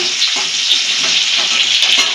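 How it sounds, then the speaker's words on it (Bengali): Potatoes frying in oil in a pan give a steady, bright sizzle, close and loud, with occasional light stirring scrapes and no talking. "আলুটা আমাদের ভাজা ভাজা হয়ে গেছে"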